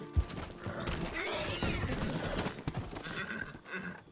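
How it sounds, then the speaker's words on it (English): Horses whinny and neigh with clip-clopping hooves inside the Red Dead Redemption 2 video game, layered with busy mechanical game sounds at fairly steady loudness throughout. "Well, now we have horses."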